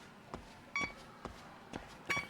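In Lost Judgment, a handheld tracking device around a school gives off small electronic beeps mixed with soft clicks in an irregular pattern, faint and close, with no talking.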